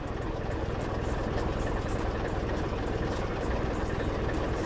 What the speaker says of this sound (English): Not just the Jake, but the exhaust on my truck is hella loud.